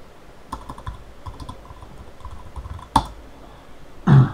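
Keys tapped on a computer keyboard while entering a Google search: a few soft, scattered clicks, then a sharper tap and a louder final keystroke, close and quiet.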